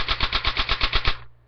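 A Crosman Pulser M4/M16 airsoft gun fires a rapid automatic burst of about ten evenly spaced shots over roughly a second, loud and close, then cuts off abruptly into quiet.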